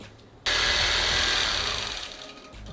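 Close by, a longarm quilting machine starts up abruptly and runs with a steady, fast whirring hum as it stitches a baby quilt, then slows and trails off near the end.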